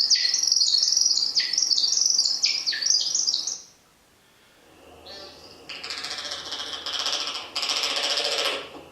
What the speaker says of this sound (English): Now you'll notice in the background there the spring peepers and things.